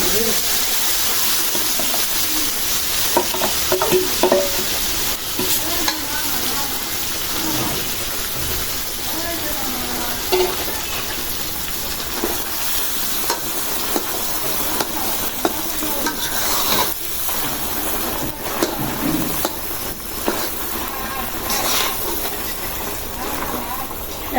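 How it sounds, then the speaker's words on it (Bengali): Ground chana dal paste stirred and cooking for halwa in a pan, a steady soft sizzle with scraping spoon strokes throughout, close and continuous, with a voice speaking now and then over the cooking. "এখন দিয়ে দিব এই যে ছোলার ডাল বাটা"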